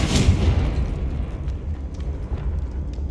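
Confringo fire spell exploding in Hogwarts Legacy, a loud, broad boom that hits at once and then rumbles on as a dense, steady roar through the rest of the moment.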